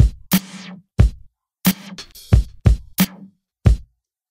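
An Ableton drum rack pattern plays through reverb and a filter macro effect: punchy kick and snare hits in an uneven rhythm, some with reverb tails that are swept and filtered, in a dry, close mix with no talking.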